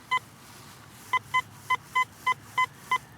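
Metal detector tones ring out while hunting for coins at an old school site in Tennessee, a series of eight short, clean electronic beeps in an irregular rhythm over a low background hum, with no talking.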